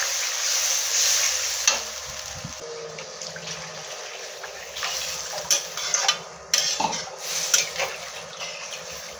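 Fried masala of ground spices and chilli powder in a pan hisses loudly when water used to rinse the spice grinder goes in, then keeps sizzling and bubbling while a spoon scrapes and clinks against the metal.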